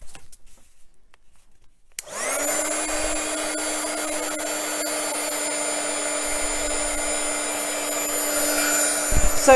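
A hair dryer switches on after a short quiet stretch and then blows steadily to dry papercraft pieces for a handmade semicircular book, a constant close whir with a slight rise in loudness toward the end.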